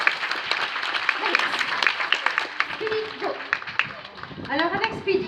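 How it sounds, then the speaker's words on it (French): An audience claps for performing sea lions at the Nausicaa aquarium show in France, a steady mid-level wash of applause with a French presenter talking over it and animal calls or whistles rising near the end. "N'hésitez pas à les applaudir en cours de route."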